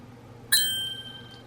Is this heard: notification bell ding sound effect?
yes